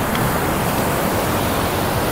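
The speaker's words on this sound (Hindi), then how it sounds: "कैसे ये दरिया चल रहा है ये पानी ऊपर से" A cold mountain river near Balakot rushes steadily, a dense, loud broadband wash of flowing water with no pauses, heard close and alone.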